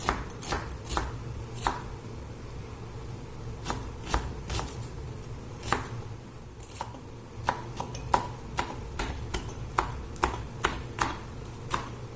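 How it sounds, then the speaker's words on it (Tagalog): A knife chopping vegetables and onion on a cutting board while making a Filipino anchovy salad, irregular crisp knocks in bursts of single strokes and quick runs over a low kitchen hum, with no talk. "maghiwa tayo ng ating mga ingredients"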